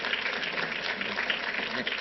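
A political event audience applauds steadily, a dense wash of clapping at moderate distance that holds evenly throughout.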